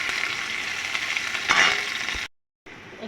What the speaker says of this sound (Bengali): সর্ষের তেলের উপরে দিয়ে দিলাম একটু কালো জিরে, একটু পেঁয়াজ কুচি দিলাম